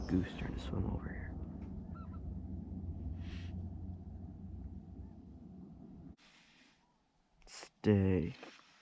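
A goose honks while swimming on icy water, a few sharp honks near the start over a steady low rumble of passing traffic, then a quieter stretch and a burst of louder noise near the end.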